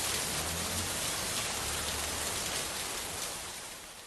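Heavy monsoon rain pours down in Pune as a dense, even hiss of drops on surfaces, steady and close, easing slightly at the end.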